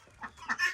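A chicken on a farm gives a few soft, short clucks up close, quiet and alone.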